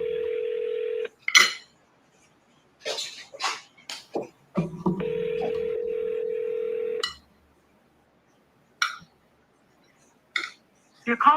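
Touch-tone telephone keys dial out at a wholesaling desk: two long steady dial tones broken by quick bursts of key beeps and clicks, close and clear, with a brief voice and scattered clatter between.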